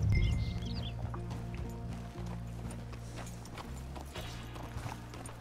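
Horse hooves clip-clop at a steady walking pace in the Red Dead Redemption 2 game, fairly quiet and even, over a soft ambient background with no talking.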